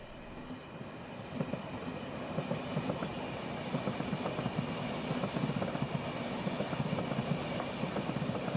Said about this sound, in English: The Transalpine trains have recently been replaced by railjet push-pull sets made